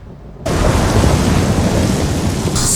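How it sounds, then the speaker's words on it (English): A violent thunderstorm with rain lashes a remote lighthouse island in The Lighthouse, a loud sustained roar of wind, downpour and rumbling thunder bursting in suddenly after a quieter moment and holding steady with no voices. "The storm is way too bad, isn't it?"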